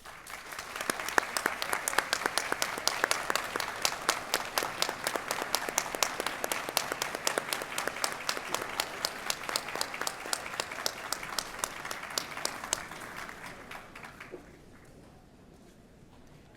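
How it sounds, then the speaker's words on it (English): A graduation audience at a Communication department spring 2025 ceremony claps steadily in a dense, sustained round of applause for the graduates' supporters, holding strong before thinning and fading out near the end. "we can show our appreciation for you with a round of applause"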